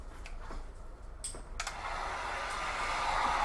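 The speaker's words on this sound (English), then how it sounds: "Take my heat gun or your blow dryer and put it over there till it's nice and hot." A heat gun starts up with a couple of clicks and then blows a steady rising whoosh that grows louder while warming a sublimated linen bunny bag's carrot piece, with no talking.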